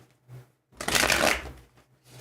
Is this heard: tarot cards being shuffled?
yes